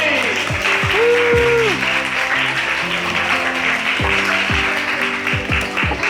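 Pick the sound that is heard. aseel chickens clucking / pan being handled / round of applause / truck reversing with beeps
round of applause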